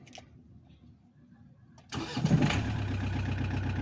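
An engine cranks and catches after a quiet moment with the ignition key switched to position 1, then settles into a steady mid-pitched idle with a rough mechanical hum.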